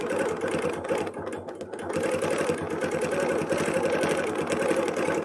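A sewing machine stitching fabric with a worn needle runs steadily with a rapid mechanical hum and a fine repetitive tapping throughout, close and continuous.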